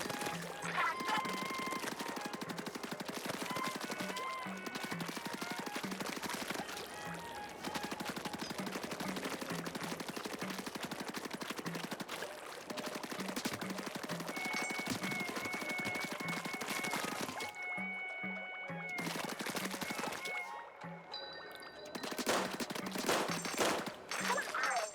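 Ink weapon firing in Splatoon, a long stream of rapid, rhythmic shots that continues almost unbroken with brief pauses, loud and close, set against game music.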